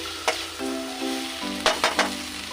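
Samosas fry in hot oil with a close, steady sizzle, punctuated by a few sharp bursts of crackling and spatter; a low hum runs underneath and nobody speaks.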